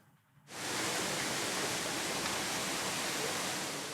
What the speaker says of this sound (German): Der Höttinger Bach. Dieser Tage ein harmloses Rinnsal.